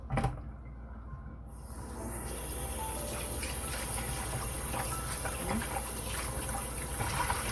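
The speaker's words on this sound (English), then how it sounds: "Pour off that water." Water gushing and splashing steadily as rinse water is poured off raw chicken, as if out of a pot into a sink, continuous and fairly close for several seconds.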